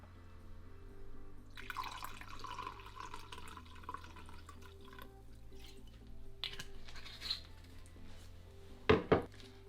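Liquid pours into a glass on a product photography set, a faint trickle beneath a low background hum, ending in a couple of sharper clinks near the end.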